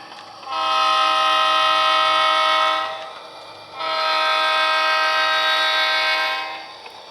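Two long, loud blasts of an SD40-2 locomotive horn, each a few seconds, separated by a short pause over a low rumbling engine, during switching in Orange, California.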